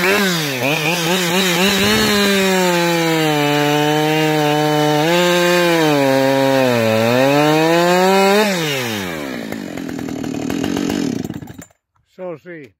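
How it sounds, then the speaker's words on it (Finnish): A Husqvarna chainsaw saws through a wooden disc, its engine revving high and steady for about eight seconds, then winding down and cutting off, with brief sounds after it stops. "sahataan tuo kiekko tuosta noin"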